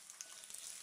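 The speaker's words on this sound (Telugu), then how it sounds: "కొంచెం ఆవాలు వేసుకుని ఆవాలు చిటపటలాడిన తర్వాత" Mustard seeds splutter in hot oil in a tempering for gongura coconut chutney, a steady close sizzle with small crackling pops and no voices.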